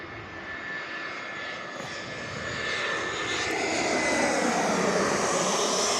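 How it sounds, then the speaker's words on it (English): AirAsia airliner arriving from Denpasar and landing at Perth Airport, a steady loud broadband jet roar that swells slightly as it passes, with no one talking. "AirAsia making their arrival in from Denpasar this morning"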